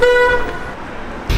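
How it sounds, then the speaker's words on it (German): A car horn gives a loud, clear toot at the start on a busy city street in Cologne. Traffic noise rumbles on afterward, and a sudden loud burst of street sound follows at the end. "Hier sind so viele laute Autos."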